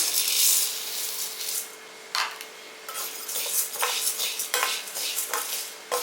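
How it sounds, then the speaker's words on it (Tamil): Lentils dry-roasting in a pan for paruppu podi, stirred continuously with a spatula: steady close scraping and rustling of dry grains against the metal pan with a light sizzle, no talking. "பருப்பை நல்லா செவக்க வறுத்துக்குங்க. கைவிடாமல் வறுக்கணும்"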